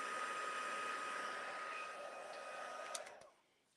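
A heat tool blows a steady, loud, fan-driven hiss close up while melting embossing powder on a stamped card, then shuts off near the end with a click and a short fading whine.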